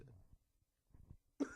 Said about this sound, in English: got a cough